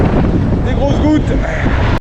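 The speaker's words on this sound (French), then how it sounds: "Il y a effectivement un très gros coup de vent là. Très gros coup de vent, des très violentes rafales." Strong, violent wind gusts roar outdoors on a cycling trip through Kosovo and Macedonia, buffeting the microphone with loud, continuous low rumble across the whole moment.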